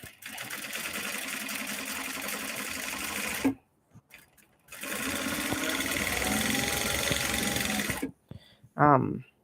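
An industrial sewing machine head, recently repaired and with a slight rattle in its needle synchronizer, runs in two steady, loud bursts separated by a brief pause, followed by a short spoken remark.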